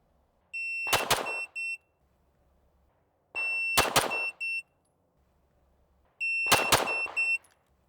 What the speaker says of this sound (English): I'm just gonna fire 2 fast shots